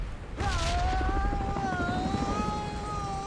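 A video game helicopter drones loudly and continuously with whining rotor tones, opened by a heavy boom-like burst and a rumbling engine bed throughout.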